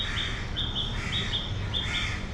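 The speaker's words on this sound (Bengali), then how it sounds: "পাখির ডাক শুনতে পাচ্ছি" Birds calling near Dhanmondi Lake in Dhaka, repeated short high chirps over a steady outdoor hum and distant traffic rumble, no one talking.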